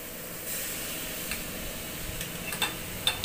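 Chopped tomato dropped into a pan of frying tangra fish curry, a soft steady sizzle with a few sharp clicks and stirring taps toward the end.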